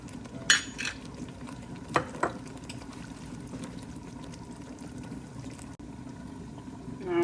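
Garlic sautés in a very hot pan for an Alfredo sauce, giving a steady close sizzle broken by a few sharp clinks of a utensil against the pan.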